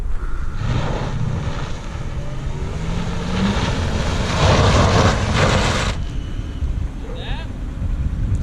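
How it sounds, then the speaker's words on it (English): A 2005 Mercedes S430 on a test drive, with steady road and engine noise inside the cabin and wind rush, while people talk over it. "We did take it for a test drive, which you can go ahead and see right here."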